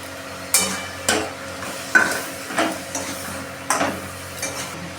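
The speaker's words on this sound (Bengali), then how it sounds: "এবার আমরা আমাদের কপি ভাজাগুলো দিয়ে দিচ্ছি।" Fried cauliflower pieces go into a pan of cooked spice paste with a little water and are stirred, producing a regular series of close scraping, sizzling strokes roughly every half second, with no talking.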